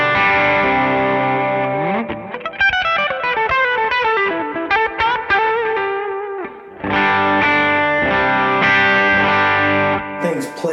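A Fender Telecaster electric guitar with very low action plays chords and a descending run of picked notes with effects-laden, slightly distorted tone, loud and close, with a brief pause midway before strummed chords resume.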